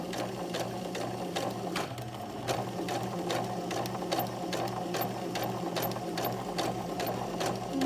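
A sewing machine stitches a fly zipper in a steady fast run of needle strokes, close and even, with no one talking over it.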